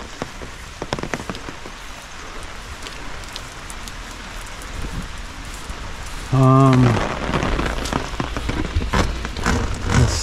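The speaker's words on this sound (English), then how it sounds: "It's a rainy day." Steady rain pattering on surfaces outside an abandoned house and barn, a dense continuous hiss with scattered drip ticks, briefly joined by a short tonal creak or whine partway through.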